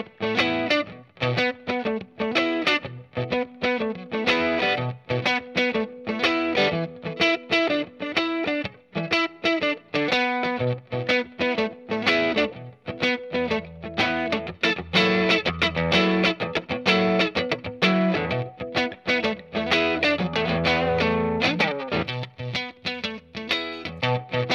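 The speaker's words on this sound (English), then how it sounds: "let's hear just the Tube Screamer as a boost." Electric guitar through stacked overdrive pedals, with a Tube Screamer as a boost, warm crunchy distortion playing continuous blues chords and riffs at steady volume with no talking.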